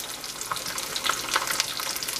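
Bacon frying in a pan, giving a soft, steady sizzle and crackle with scattered small pops, quiet and close with no voices.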